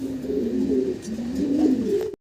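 Fancy pigeons cooing up close, a loud continuous throaty warble rising and falling for about two seconds with no talk.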